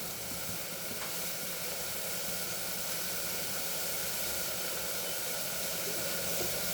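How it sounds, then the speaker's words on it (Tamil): Ginger garlic paste sautés in a pan for coconut milk rice, giving a steady, faint, even sizzle and hiss throughout, with no talk. "இது நல்லா ஒரு 2 நிமிஷம் வதங்கட்டும்."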